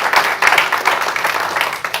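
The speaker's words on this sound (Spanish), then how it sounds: "Dale fuerte el aplauso a Jesús." Church congregation applauding together during a sermon, a dense, loud wash of many hands clapping continuously throughout.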